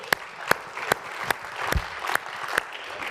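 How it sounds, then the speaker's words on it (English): A small seminar audience gives a round of applause, heard as a series of sharp, evenly spaced claps that ring out close by at a moderate level. "All right, give them a round of applause."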